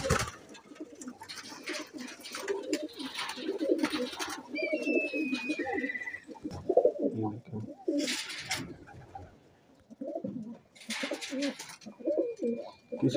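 Teddy Golden breeder pigeons on a Lahore rooftop loft keep up a steady run of low rolling coos nearby, joined by brief sharp chirps and a few breathy flutters.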